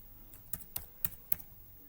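Four separate keystrokes on a computer keyboard while filling in an online application form, crisp and close, spaced about a quarter second apart in a quiet room.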